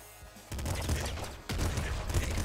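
Rapid bursts of machine gun fire in the top-down shooter game Nuclear Throne, two dense volleys of quick repeated shots, loud and close, separated by a brief gap.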